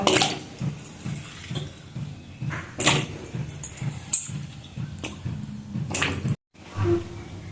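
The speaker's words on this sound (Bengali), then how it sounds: "কড়াইতে পানি দিয়ে দিয়েছি এখন লাউর খোসাগুলো দিয়ে দেব" Bottle gourd peels drop into water in a wok, making wet splashes and sloshing with soft knocks, close and moderately loud, with a brief silent gap near the end.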